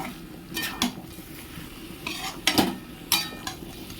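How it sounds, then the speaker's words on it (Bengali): Papaya, soybean and potato curry being stirred in a pan, with a soft background sizzle and a few sharp spoon-on-pan scrapes and clinks, close and fairly quiet, no speech. "মিশিয়ে নেব"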